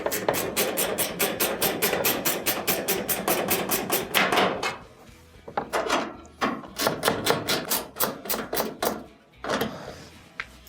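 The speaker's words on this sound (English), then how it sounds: "Let's switch over our ratchet," A ratchet tightens screws on the top panel of a clothes dryer, giving rapid, close runs of sharp clicking, a long burst, a brief pause, then further shorter bursts of clicks.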